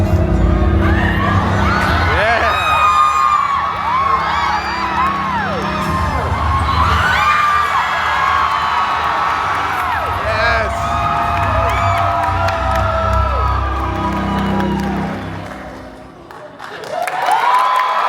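Convention crowd at a Megacon panel for Halloween Horror Nights 35 at Universal Orlando, cheering, whooping and clapping loudly for a long stretch as voices shout over the roar, before the noise drops away and then swells again at the end.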